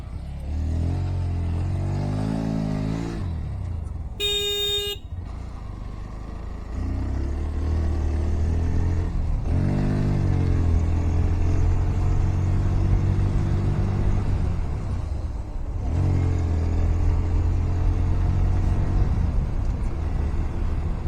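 Honda NS160 motorcycle riding on an open road, the engine droning steadily close up, with its pitch rising and dropping through acceleration and gear changes, and a brief high-pitched beep early on.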